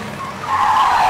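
A vehicle, the child-catcher van, skids to a stop with a loud, close tire squeal that rises and holds for about a second.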